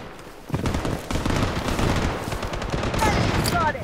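Dense automatic gunfire roars through a firefight in the shooter game Blood Strike, a rapid, continuous rattle of close shots with a brief voice callout in the mix.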